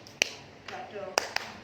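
A hand slaps a thigh in a few sharp pats: one near the start, then a double pat about a second later, close and fairly quiet, with faint murmuring in between.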